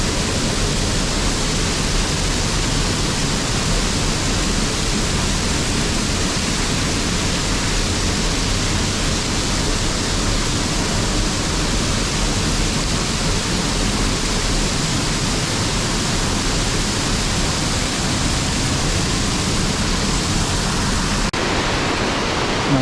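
The Trefflingfall waterfall in the Ötschergräben gorge roars loudly and steadily in winter, a dense wall of rushing water filling the whole clip without pause.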